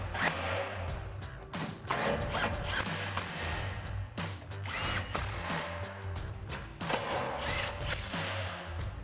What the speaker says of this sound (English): now we can take an 18mm socket to tighten down our 4 bolts